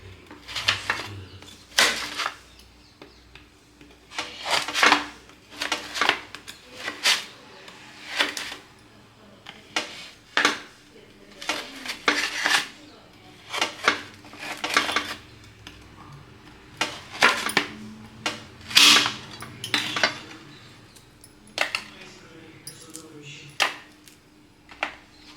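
A knife cuts a slab of homemade ginger candy into pieces, making a long series of sharp, close chops and knocks on a board, spaced irregularly with short gaps.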